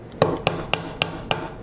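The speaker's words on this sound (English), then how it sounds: "I'm just going to tap them in a little bit more with that plastic and brass hammer." A plastic and brass hammer taps five times at an even rhythm, sharp close knocks seating parts into a modular angle plate in a machine shop, with no talk.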